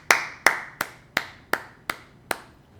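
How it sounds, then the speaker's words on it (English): Slow, evenly spaced claps from a grade six class, seven sharp strikes over about three seconds, quiet and a little sparse, with no voices over them. "Let's give ourselves a round of applause."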